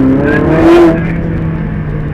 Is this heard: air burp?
no